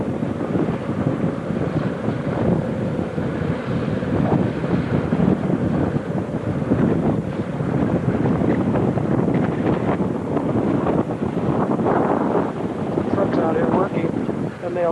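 Strong wind buffeting the microphone at a construction site for an AM radio tower project, a continuous loud rumbling roar with gusty fluctuations over the whole span and faint speech mixed in.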